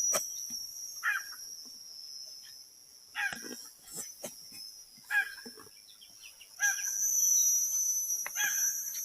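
Wild junglefowl crow now and then in a forest, fairly distant and faint, over a steady high drone of insects, with no voices nearby.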